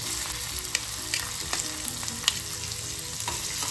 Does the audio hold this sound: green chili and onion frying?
yes